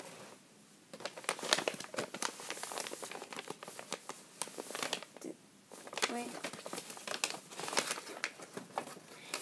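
A sheet of paper crinkles and rustles as it is creased and folded into a gliding paper airplane, with soft, close, irregular handling sounds.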